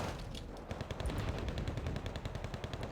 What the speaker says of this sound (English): His CV is firing.